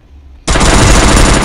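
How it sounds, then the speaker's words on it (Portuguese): Rapid automatic gunfire from the Free Fire MAX video game bursts in suddenly after a brief quiet moment, a loud dense stream of shots that keeps going to the end. "Os disparos da munição também."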